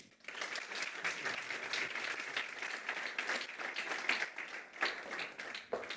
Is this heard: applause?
yes